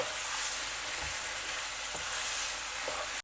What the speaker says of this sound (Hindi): चिकन को हमने 4-5 मिनट तक अच्छी तरह भून लेना है।